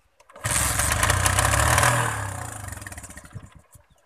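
A motorcycle engine catches, runs loudly and unevenly for a couple of seconds, then sputters, dies down and stops, its last irregular pulses fading out.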